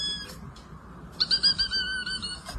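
A voice imitates a pigeon with a few short, high, whistle-like calls, then a longer run of rapid pulsing tones, near and unaccompanied.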